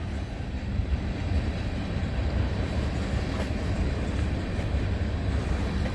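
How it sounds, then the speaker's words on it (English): A long CN freight train of GECX tank cars rolls past at night on a rural main line, a steady heavy rumble and wheel noise that stays loud and continuous, with no talking. "Look at all the GECX tank train."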